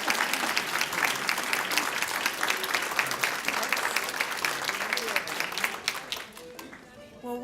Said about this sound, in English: let's give another round of applause to Erin and Paddy.